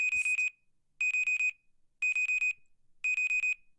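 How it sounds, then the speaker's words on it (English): An alarm clock rings in four short bursts of rapid electronic beeps, each about half a second long, spaced roughly a second apart, clear and alone. "Jeez, he's not waking up even with an alarm."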